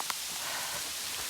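Hail pattering down during a trail half-marathon run, a dense steady hiss of small impacts with a faint tick near the start.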